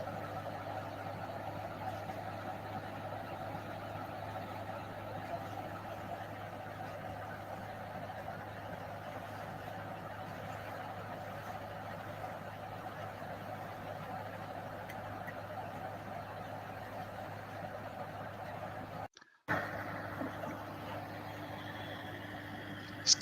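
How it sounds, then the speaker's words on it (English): A small skid steer loader driving in at a residential concrete pour, a steady low engine drone heard from some distance for a long stretch, with a brief dropout near the end. "So that's the little skidster coming in there."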